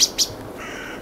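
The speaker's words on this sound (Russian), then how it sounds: "Черные дрозды нашли длиннохвостую неясыть и обругали на всю округу." Two short, sharp alarm chirps from blackbirds scolding a Ural owl in pines, in quick succession, then a faint steady background hiss.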